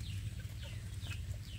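Free-range village chickens, young birds raised as breeding stock, cluck and chirp in an outdoor pen, with several short calls over a steady low background rumble and no talking.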